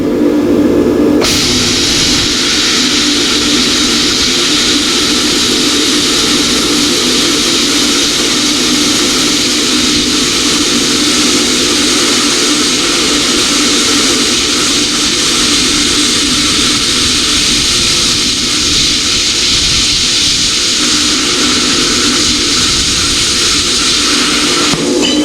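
A Yes Welder 65DS plasma cutter slices through 1/8 inch mild steel, throwing out a loud, continuous roaring hiss that holds steady and close-up for the whole cut, with no talk.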